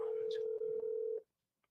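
A phone dialing a number: a steady tone with short beeps over it, faint voices murmuring underneath, cutting off after about a second.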